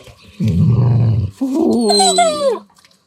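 A dog gives a growly vocal followed by a rising, wavering whine, a close whimpering howl lasting a couple of seconds, in southern Norway.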